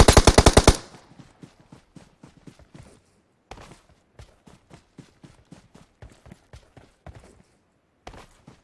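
SCAR-L rifle fire in PUBG on the Livik map: a loud, rapid burst opens the sequence, followed by a long run of quieter, evenly spaced shots in short clusters with brief gaps between them.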